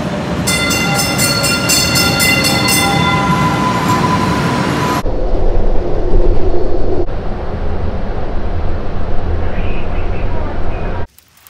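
A Boston subway train rumbles past nearby, with sustained harmonic tones in the first five seconds before fading into continuous rail noise, then cutting off abruptly near the end.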